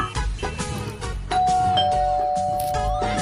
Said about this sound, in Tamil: யாரு இந்த நேரத்துல காலிங் பெல் அடிக்கிறது